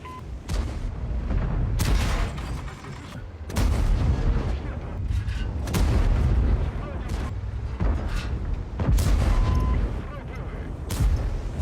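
Repeated heavy gunfire and booming blasts in bursts, loud and continuous, with a voice speaking faintly underneath.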